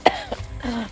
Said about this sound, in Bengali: তুমি কাশতেছো?